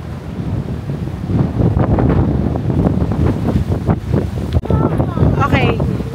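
Strong wind near the Sydney Opera House buffets the microphone in steady, loud gusts, with a broad rushing roar throughout and faint voices underneath.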